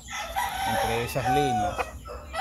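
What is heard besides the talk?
roosters crowing and clucking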